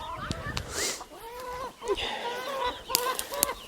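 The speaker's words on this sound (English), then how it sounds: "And happy hens, happy chicks, because they get some food." Hens and chicks clucking on a permaculture homestead, several short calls and chirps scattered close by, with faint bird sounds in the background and no talking.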